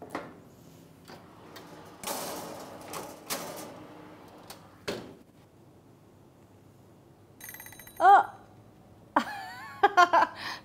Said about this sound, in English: The timer just went.